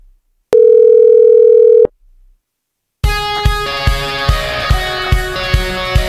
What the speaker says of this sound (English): Dialing these numbers into the emulator and calling the number for the first time yielded this audio.